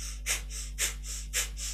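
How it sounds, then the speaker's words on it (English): Breath of fire in kundalini yoga, sharp rhythmic exhalations through the nose about twice per second, close and breathy over a steady low hum. "So that's our panting breath through the nose."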